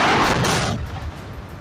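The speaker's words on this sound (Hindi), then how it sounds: "गैस टैंकर में जबरदस्त धमाके होने लगे" A loud blast-like burst of roaring noise from a gas tanker explosion that decays over about a second into a lingering rumble.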